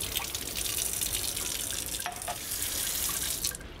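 Tap water runs steadily into a sink, rinsing etching cream off a glass carafe, a continuous close splashing stream with a few brief drips and clinks, then easing off near the end.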